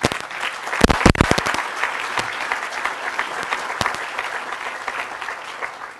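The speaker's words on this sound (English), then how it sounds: "let's give them all a round of applause" A crowd claps for honoured guests at an outdoor ground blessing for a new university campus on O'ahu. The applause is loud and sustained, with a few sharp claps standing out early before it settles into a steady, gradually fading patter.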